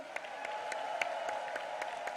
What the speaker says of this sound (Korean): 강선우, 민영배 의원 끝까지 함께 하시라고 박수 보내주시기 바랍니다